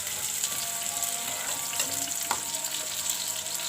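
Onion, tomato and green chillies fry in a pan with a steady, faint sizzle and a few soft stirring scrapes, and no one is talking.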